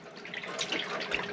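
On a sailboat, a foot pump pushes filtered seawater into a sink, giving a soft, continuous splashing and gurgling water flow with light irregular spurts, fairly faint and without talking.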